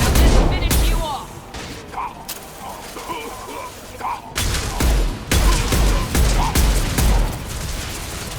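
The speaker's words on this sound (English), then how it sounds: "This pistol is very powerful." Rapid bursts of pistol gunfire in Mass Effect 2 combat, loud sharp cracks in clusters with mechanical clicks and rattling between shots, mixed with other battle noise and voices.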